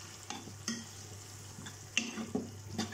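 A spoon stirs broccoli and potato curry with turmeric in a pan: intermittent scrapes over a soft, steady sizzle, close and fairly quiet.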